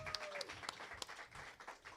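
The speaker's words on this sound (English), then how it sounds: "Let's give it another round of applause for Johnny" A live pride event crowd applauding an honoree, a short stretch of scattered clapping with a few sharper claps standing out, moderately loud.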